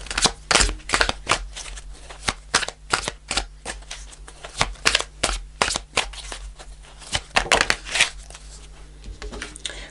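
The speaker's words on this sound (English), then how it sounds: "I'm going to pull one more card on. Let me grab the deck." A tarot deck is handled and shuffled at close range, producing rapid crisp papery slaps and riffles in irregular bursts, with dense flurries of card snaps and short pauses between, and no voices.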